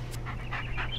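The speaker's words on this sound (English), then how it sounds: "Yeah, good dog." A dog in the Blair Witch video game pants quickly in short rhythmic breaths, close and fairly soft, over a low steady ambient hum.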